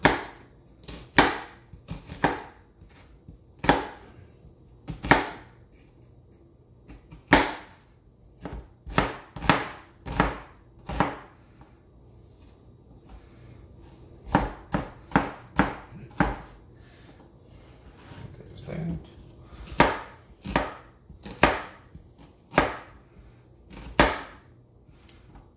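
Knife dicing an onion on a cutting board while preparing cream of potato soup, a long run of sharp, close chopping strikes in quick bursts and steady rhythms with short pauses between runs.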